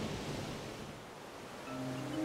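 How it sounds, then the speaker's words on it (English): Choppy sea water breaking over the bow of a sailboat off the Greek island of Syros, a steady roaring wash of surf and wind noise that swells again near the end, with no voices. "waves crashed spectacularly over the bow"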